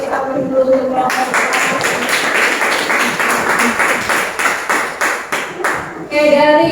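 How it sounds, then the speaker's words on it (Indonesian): A student group in an Indonesian classroom receives steady, fairly loud applause, many hands clapping together for several seconds, with a little faint talk at the start and end. "Oke, kita kasih aplaus dulu untuk kelompok."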